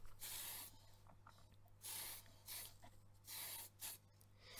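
Tamiya fine surface white primer sprays from an aerosol can in several short hissing bursts, one long and a few briefer, with quiet gaps between them and a steady low hum underneath.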